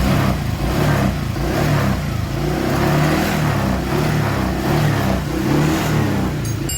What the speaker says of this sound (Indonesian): RPM biar tinggi sekitar kurang lebih 1700